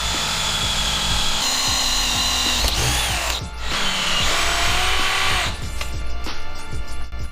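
A power drill whines steadily while pre-drilling a 6.5 mm hole for an M8 thread in a motorsport intake part, loud and close with brief changes in pitch as it bites and eases off.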